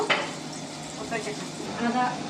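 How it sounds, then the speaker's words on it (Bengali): Meat for biryani frying in a pot alongside onions with ginger paste, giving a steady close sizzle with scraping stir sounds and faint clinks, under quiet background voices. "এখন শুধু বিরিয়ানির জন্য মাংসটা বসাইতেছি"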